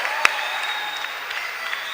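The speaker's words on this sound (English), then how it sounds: "give the Lord a clap of praise" A congregation claps in praise during a morning session of the Goa Youth Fest, a dense, steady patter of many hands with one sharp clap standing out near the start.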